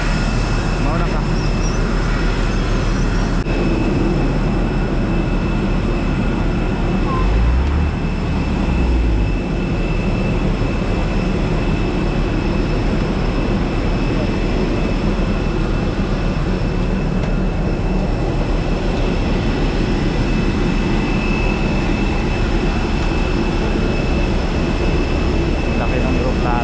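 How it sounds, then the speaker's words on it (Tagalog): Large airplane at an airport before a trip to Cebu, a loud continuous engine roar with a steady high whine running throughout, while people talk faintly over it. "Laki ng aeroplano."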